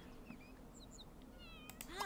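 A kitten in The Sims 3 gives a few high, thin meows over a quiet game soundscape, with a brighter cry near the end.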